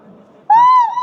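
A single sustained, hooting shout rings out inside the Gol Gumbaz dome in Bijapur, Karnataka, rising suddenly from a quiet hum and held loud and steady, its tone reverberating through the huge stone chamber.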